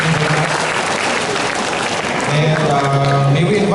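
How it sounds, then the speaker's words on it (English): Audience applause at the close of a Lantugi 2015 debate game, sustained dense clapping at steady loudness, with a few raised voices and a tonal hum in the second half. "give our debaters a resounding applause"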